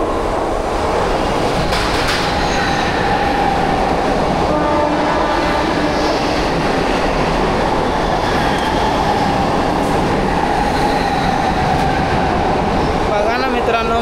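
A fast suburban train rushes through Mumbra station, a loud, continuous rumble of wheels and carriages with rail clatter, steady for the whole stretch and close by, with no talk.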